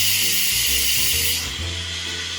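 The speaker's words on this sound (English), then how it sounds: "now we're going to move our button over here from sealing to venting to do a quick release" An Instant Pot on quick release vents pressurized steam with a loud, steady hiss. The hiss thins slightly partway through, and low rumbling tones sound beneath it.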